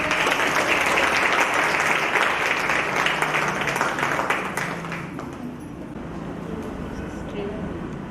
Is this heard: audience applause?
yes